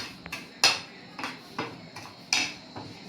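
Boiled corn being mixed with red chili, salt, crushed cumin and lemon in a bowl gives sharp, irregular clinks and taps of a utensil against the dish, close and fairly quiet, with no talking.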